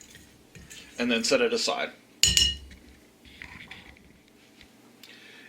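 Flour, baking powder and salt whisked together in a bowl for a Boston cream pie: a second of quick metallic clinks against the bowl, then a sharper clank, with a voice talking briefly.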